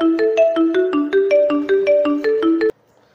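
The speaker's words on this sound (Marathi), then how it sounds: "आयला कोणाचा फोन आला?" Mobile phone ringtone playing a repeated melodic synth tune, loud and close, looping steadily for under three seconds before cutting off abruptly into silence.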